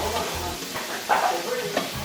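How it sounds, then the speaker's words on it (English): Gentle sizzling of marinated chicken frying in a pan for tacos, with a few stirring scrapes and faint background music, no talking. "it started to sizzle."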